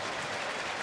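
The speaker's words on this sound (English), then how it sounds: "Big round of applause" A ballpark crowd at a Milwaukee at Cincinnati baseball game applauds between innings, a dense, steady clapping wash from many hands, brief and fairly loud.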